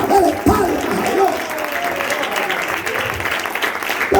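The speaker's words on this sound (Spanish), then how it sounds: "dele palmas a Dios" Church congregation applauding together, a steady dense wash of clapping that runs the whole time with a few louder bursts and mixed voices underneath.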